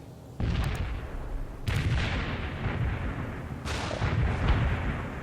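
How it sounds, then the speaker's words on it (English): Mortar barrage in World in Conflict: several heavy, booming impacts land one after another, each a sharp loud blast trailing into rumble, with the explosions overlapping into a continuous roar. "Firing mortars. The barrage will reach you soon."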